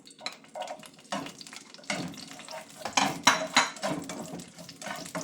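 Garlic sizzles in a hot pan for a Filipino sautéed zucchini dish, with steady frying crackle, stirring, and scraping and clinks of a utensil against the pan rising in the middle.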